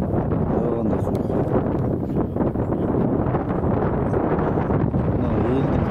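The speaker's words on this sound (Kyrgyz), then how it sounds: "шамал жүрүп турат экен" Steady wind blows across a cold mountain pasture in Alay, a continuous loud rushing roar buffeting the microphone without a break.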